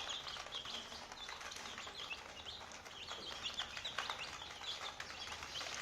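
Small chicks at a poultry exhibition peck at spinach and other leafy greens, their close, busy chirps and clucks overlapping in a steady, scattered chatter.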